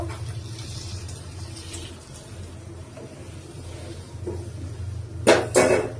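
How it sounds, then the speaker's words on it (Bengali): Hot water goes into a pot of tehari frying in oil, a quiet low rumble of the kitchen followed near the end by a loud burst of hissing splash and steam. "এখন আমি গরম পানিটা দিব"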